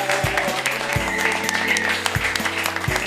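An audience at a French comedy show applauds loudly, dense clapping running throughout with low musical tones thumping underneath.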